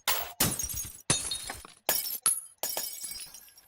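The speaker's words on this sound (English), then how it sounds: "All glass breaking." A rapid series of glass-breaking sound effects, about six separate crashes and shatters in quick succession, each sharp and close with tinkling debris trailing off.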